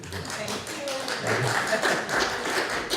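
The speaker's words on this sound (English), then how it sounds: "And applause." Audience at a coalition's annual member meeting applauding, a moderate patter of hand claps that builds and holds steady, slightly distant in the room.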